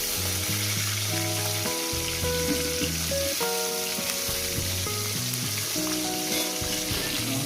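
Silver carp pieces frying in hot oil give a steady, dense sizzle with crackling spits, close and continuous with no talk, while a low tonal sound layers underneath.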